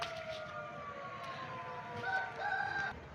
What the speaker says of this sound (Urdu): مرغے کا نسل چیک کر لو، آؤٹ کلاس مرغا